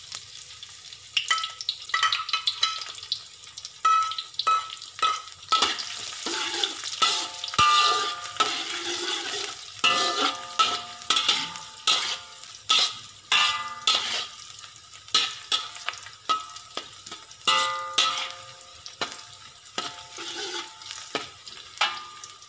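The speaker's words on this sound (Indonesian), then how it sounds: "Masukkan bawang putih." Garlic frying in a hot wok for Chinese-style fried rice, a steady sizzle broken by repeated rhythmic clanks and scrapes of the spatula against the metal, close and loud with no voices.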